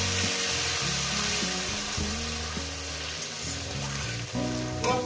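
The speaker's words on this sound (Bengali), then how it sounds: "দিয়ে দেবো একটু জিরে ফোড়ন, কয়েক সেকেন্ড একটু ভেজে নেব।" Cumin seeds fry in hot oil as a tempering for a parshe fish and potato curry, giving a steady, close sizzle over a low tonal backdrop for about five seconds.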